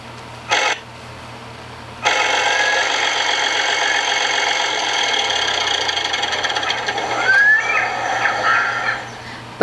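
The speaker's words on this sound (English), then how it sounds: "Out in the fields, a tractor trundles to a stop." Out in the fields, a tractor engine runs loud and rumbling after a short burst, chugging steadily for several seconds before easing off and dropping away toward the end.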